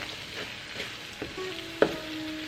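Chili and paprika frying for chana masala, a soft steady sizzle with light stirring and a brief sharper scrape near the end, quiet and close.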